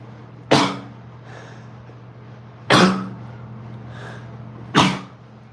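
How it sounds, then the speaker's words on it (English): Three sharp sneezes, evenly spaced a couple of seconds apart, loud and close over a low steady hum. "Had to sneeze."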